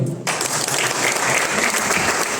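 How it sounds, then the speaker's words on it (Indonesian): Sudden burst of dense audience clapping at a PHDI handover ceremony, holding steady and loud throughout, filling the hall. "Tepuk tangan dulu nih"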